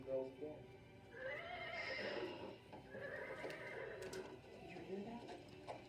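A horse named Amerigo whinnies repeatedly, long loud neighs with a faint clip-clop of hooves on a roof mixed in, fairly close and continuous through the moment.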